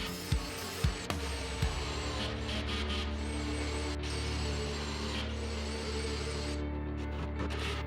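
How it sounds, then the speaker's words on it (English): A power drill whirs steadily, its pitch shifting as 1 1/4 inch pocket hole screws are driven into a plywood cabinet frame, with a few sharp clicks at the start. "We will use our drill and 1 1/4 inch pocket hole screws to assemble the frame."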